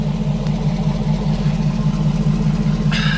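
A 2005 Hummer H2 SUT engine idles up close with a heavy, steady low rumble and a constant hum throughout. A brief higher tone cuts in near the end.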